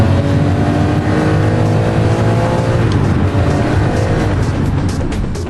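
A McLaren F1 sports car with a 627 hp twelve-cylinder engine drives at speed, its loud, steady engine drone holding throughout with rising harmonic tones as it accelerates, no talk over it.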